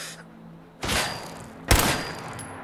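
Gunfire in the video game Fallout 4 as a bandit attacks in a town, two sharp loud shots about a second apart with a brief ringing tail, no voices.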